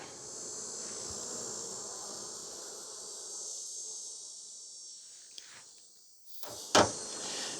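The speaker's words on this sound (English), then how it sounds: "there's lots of bees somewhere" Honey bees buzzing around the hives, a soft, continuous high-pitched drone at a distance, with a faint click and a short knocking clatter near the end.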